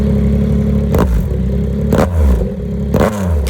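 A 2025 Yamaha R9 motorcycle fitted with a Dominator GP3 exhaust runs loud and close, its engine holding a throbbing drone with rough pulses and brief rises roughly once a second.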